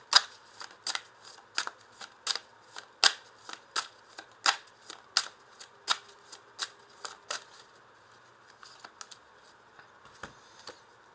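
Tarot cards are shuffled in a quick run of crisp, riffling bursts, about a dozen evenly spaced flicks, close and fairly quiet, then a softer rustle with a few lighter taps at the end.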